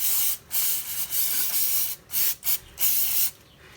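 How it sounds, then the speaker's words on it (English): Carb cleaner sprayed into a Ford Transit power steering fluid bottle, a series of close, loud aerosol hisses in short bursts separated by brief pauses. "So to clean this bottle, I'm just going to be using a bit of carb cleaner."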